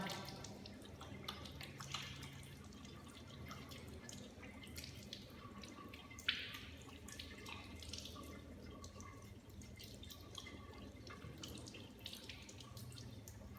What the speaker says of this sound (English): rinse your hands under running water